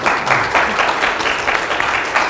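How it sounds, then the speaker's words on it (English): An audience gives a short, lively round of applause, with dense continuous clapping from start to finish. "can we give them a round of applause for being so?"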